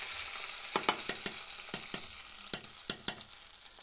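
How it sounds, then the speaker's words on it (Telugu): Tomato pieces sizzle in hot oil in a pan while making tomato chutney, a steady frying hiss punctuated by sharp pops and spatters, close and alone without voices. "ఇప్పుడు ఈ ముక్కలు వేసేసి ఈ నూనె కూడా మనం ఇందులో పోస్తున్నాం"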